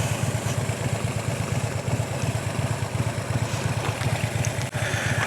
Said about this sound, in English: ABS doing emergency stopping because that's literally the fastest your bike can stop